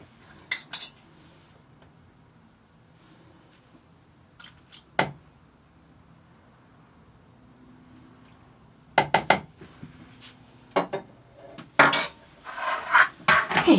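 Soap batter being stirred with fragrance oil and turquoise-blue colour, heard as sporadic clinks and scrapes of a utensil against the container, with quiet gaps and a busier run of knocks toward the end.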